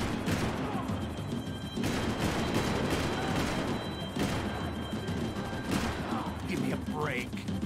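Gunfire bursts from Max Payne 3, dense and continuous across the whole stretch, with loud cracks and crashes mixed in, while voices shout over the chaos.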